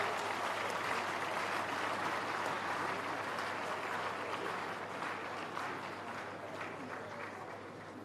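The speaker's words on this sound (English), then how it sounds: "Applause for him." Sustained applause from a convocation audience for a first-class graduating student, dense steady clapping from a large crowd filling the hall and easing slightly toward the end.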